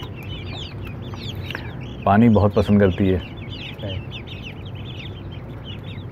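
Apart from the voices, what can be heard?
desi chickens clucking on rooftop poultry farm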